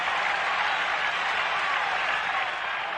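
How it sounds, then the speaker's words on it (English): A 1970s baseball crowd at Fenway Park gives a standing ovation, steady loud applause and cheering filling the ballpark throughout. "Crowd on its feet here at Fenway on an overcast, raw day."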